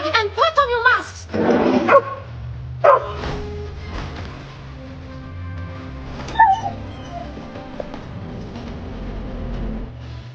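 An animated dog barks urgently to warn of a gas attack, giving several sharp barks and yips early on, with excited voices talking over and between the barks and a low rumbling score underneath.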